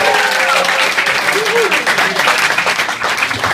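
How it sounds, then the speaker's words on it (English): Loud, dense applause from a comedy-club audience in Enschede greeting a stand-up comedian, a steady wash of clapping sustained throughout with a faint voice or cheer rising briefly in the middle. "so give him a big round of applause"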